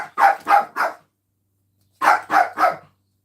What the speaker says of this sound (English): She's barking at him because he's stolen.